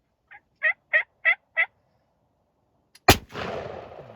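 A single loud gunshot fires on a Vermont turkey hunt, crackling out after a turkey gobbles four times in a quick series, with the blast's echo rolling off across the woods.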